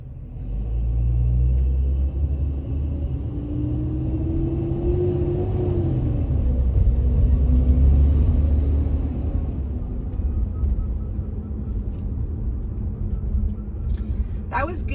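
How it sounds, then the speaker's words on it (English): A car engine rumbles steadily and rises in pitch as it accelerates through an intersection, a smooth continuous drone heard from inside the vehicle. "That was good acceleration through that intersection."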